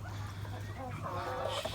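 Hen with a lot of gray in her plumage giving soft, low clucks, faint beneath a steady hum of background noise.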